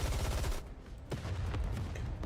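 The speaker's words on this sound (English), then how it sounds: "She thrusts her arm forwards and the barrage of gunfire erupts." Dense barrage of gunfire from the mobile shooter game Goddess of Victory: NIKKE, a continuous rapid rattle of shots with a brief dip midway, steady and fairly loud, no speech.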